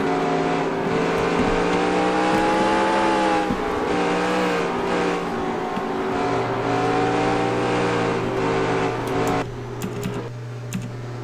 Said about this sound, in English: A lot of lap down traffic here in front of your race leader, Dan Mattiello.